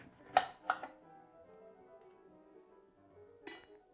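A knife slicing through a washed orange on a board gives two sharp, close cutting taps followed by a quiet ringing tail and a final softer chop, with no talk.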